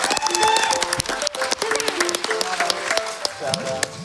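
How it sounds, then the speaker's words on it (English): A crowd at the SGDQ 2019 speedrunning event claps and cheers in a steady burst of applause while people talk over it. "Can we get a round of applause for Wonder J"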